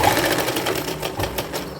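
A sewing machine stitches a fabric belt for a girls' cord set, its needle running in a steady, close, continuous whir for the whole stretch with no voices.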